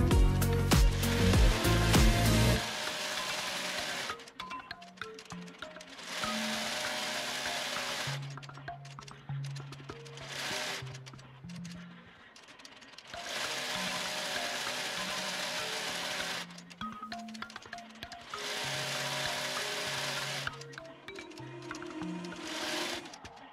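An embroidery machine stitches appliqué letters in glitter heat transfer vinyl on a sweatshirt, giving a close, rapid mechanical chatter in repeated bursts separated by short quiet pauses while it moves between sections.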